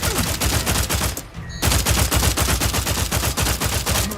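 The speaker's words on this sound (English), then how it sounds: "Let's try the newer gun, the Oracle. Because this thing apparently has homing shots." Rapid gunfire from the Oracle, a homing-shot gun in a sci-fi shooter game, rattles loud and close in a steady fast stream, broken by a brief gap before resuming at the same relentless pace.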